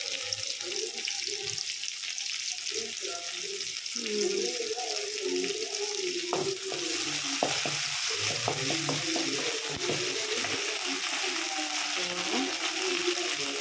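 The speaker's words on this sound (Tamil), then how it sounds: "இதான் ஃப்ரை பண்ணிகிட்டே இருக்கோம்" Mutton liver masala frying in a pan, a continuous hiss of sizzling oil with scattered stirring clicks and scrapes, a voice talking faintly over the cooking.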